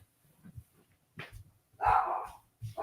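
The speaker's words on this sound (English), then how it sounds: "Rob Berk hates to silence his dog." A dog gives a couple of soft, short yips, then one louder bark, followed by another small bark, fairly close by.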